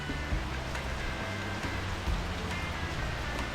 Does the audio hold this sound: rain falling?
yes